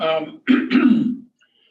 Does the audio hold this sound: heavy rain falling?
no